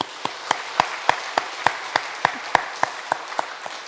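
A church congregation claps in steady, evenly spaced unison beats, a bright rhythmic run of about fifteen claps filling a reverberant sanctuary with no talking.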